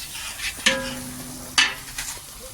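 Curry ingredients and spices are sautéed in a pan with a spatula: a soft constant sizzle broken by two sharp scraping strokes and a lighter stir near the end.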